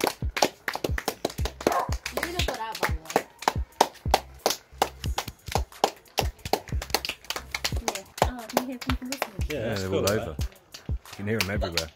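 Neighbours outdoors clapping hands to applaud the NHS during lockdown, sharp repeated claps close by at an uneven, brisk rhythm, with people talking and cheering between and over them.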